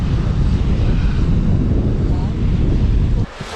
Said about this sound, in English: There it is, Arctic Ocean.